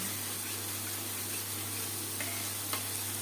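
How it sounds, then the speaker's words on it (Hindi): Masala for bhindi sizzles steadily in a hot pan while being stirred, a constant close frying hiss with faint scraping touches and a low background hum. "इसी तरह चलाते हुए हमें भूनना है।"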